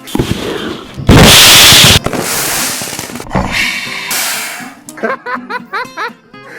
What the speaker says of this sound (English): He just shot a gun at 3, 2, 1.